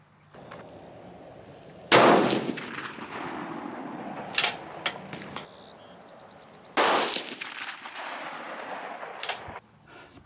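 A Swiss Model 1940 K31 bolt-action rifle fires at an outdoor range: two sharp, loud shots a few seconds apart, with fainter clanks and clicks of bolt handling between them.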